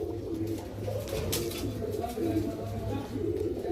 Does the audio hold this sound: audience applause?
no